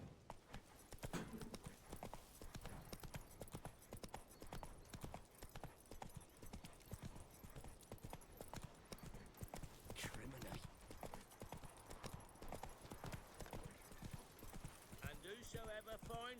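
Roach, the horse in The Witcher 3, galloping with rapid, continuous hoofbeats, close and steady, under game sound and someone talking.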